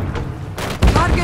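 A short, loud burst of gunfire erupts in a military shooter video game after a moment of quieter background noise.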